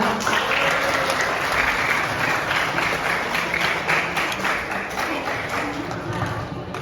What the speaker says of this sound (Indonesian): Boleh kasih aplaus dulu buat teteh-tetehnya?